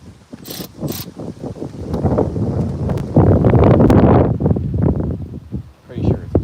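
Wrench ratchets a 12 mm bolt loose on a 2010 Honda Element SC, a run of close mechanical clicks and clunks with some wind buffeting on the microphone.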